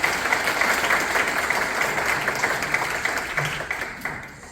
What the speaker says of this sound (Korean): 우리 저분들에게 박수 한번 보내주십시오